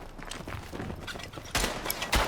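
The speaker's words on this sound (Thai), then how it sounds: "วันนี้เราได้ยิงด้วยแมชชีนกันแบบเยอะมากครับยิงแบบบึ้มๆนะฮะ" Machine-gun fire in the World War I shooter Tannenberg, fired from a gun emplacement: a dense rattle of battlefield shots builds into two loud, close bursts near the end, with no talking.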